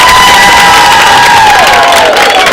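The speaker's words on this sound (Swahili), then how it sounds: "All right. Hebu tupige makofi kubwa sana." A crowd of children at a school reproductive-health awareness session claps and cheers loudly and continuously, with a high shrill whistle-like tone sliding across the dense roar.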